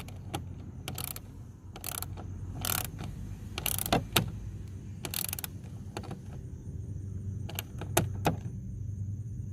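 Sharp ratcheting clicks in short separate bursts as screws on a license plate bracket for a 2015–2020 Dodge Challenger are tightened, close and moderately loud against a low background hum.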